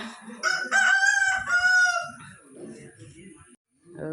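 A rooster crows nearby, one loud, drawn-out cock-a-doodle-doo with clucking and faint background sounds after it.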